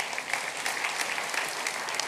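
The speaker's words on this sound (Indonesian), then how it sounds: "Kasih tepuk tangan Tuhan." A church congregation claps during an Indonesian worship sermon, an even, sustained patter of many hands heard alone and fairly close, with no speech over it.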